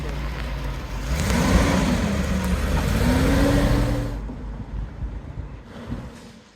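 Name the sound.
classic Mercedes car driving off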